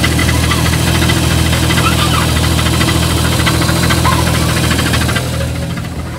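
Close to a Jeep Cherokee engine at idle, a fast, even ticking knock repeats over a steady low drone, with no voices, easing slightly near the end.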